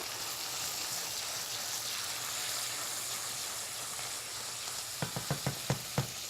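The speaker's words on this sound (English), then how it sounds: "I'm just going to add in a shot of white wine here. Deglaze a little bit." White wine splashed into a pan of soft leeks sets off a steady loud sizzle, with a quick run of sharp crackling pops near the end.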